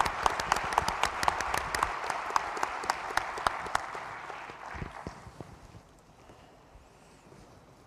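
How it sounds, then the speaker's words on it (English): Summit audience applause for a panel, a few loud sharp claps standing out over a crowd ovation that gradually fades and thins to quiet room noise near the end. "Please join me in a huge round of applause for our panel."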